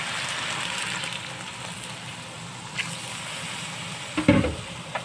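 Meat sizzles and fries steadily in a pan for menudo after water goes in, a continuous close hiss with a few soft stirring clinks and a brief louder clatter near the end.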